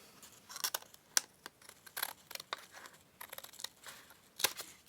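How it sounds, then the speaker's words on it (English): Scissors cut paper for a junk journal belly band, a run of soft, crisp snips and slicing strokes at an uneven pace, heard close and quiet with no talk. "And now I can see where I need to make my cut"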